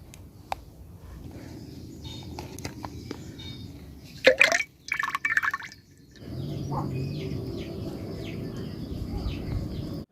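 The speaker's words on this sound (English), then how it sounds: "right here is the amount of oil we've been able to drain from our peanut paste" Peanut oil drips and trickles as it drains from homemade peanut paste, soft irregular liquid drops with a brief louder splash near the middle, over a steady low background hum.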